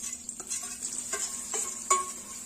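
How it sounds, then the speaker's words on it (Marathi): Paneer pieces frying in oil in a kadhai, a steady high sizzle with a few soft stirring clinks and scrapes, close and continuous with no talking. "यामध्ये आपण हे पनीरचे तुकडे तळून घेणार आहोत"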